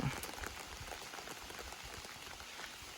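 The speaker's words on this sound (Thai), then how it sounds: "ฝนกระตกอีกแล้ว" Rain falls in a steady, dense patter close by, a continuous hiss of drops striking surfaces without pause.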